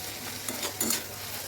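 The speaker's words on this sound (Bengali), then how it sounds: "এখানে আদা রসুনটা দিয়ে দিলাম, পেঁয়াজটা হালকা ভাজা হয়েছে" Onion, ginger and garlic fry in a wok, a steady soft sizzle with a few brief stirring scrapes, fairly quiet and close.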